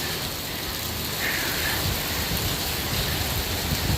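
Heavy rain pours steadily along a beach road in Pattaya, a dense, constant hiss of downpour close around with no voices over it.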